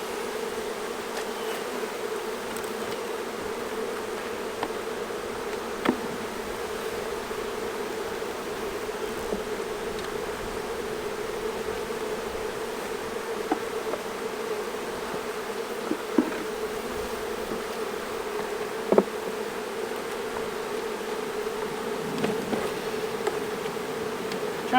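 Honeybees drone steadily around a hive, a constant close buzz that holds for the full length, broken now and then by brief soft knocks and ticks.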